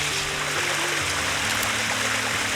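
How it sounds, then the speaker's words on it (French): A stream flows steadily outdoors in rainy weather over muddy ground, a continuous close rushing wash of water with no talking. "il y en a un paquet de rivières"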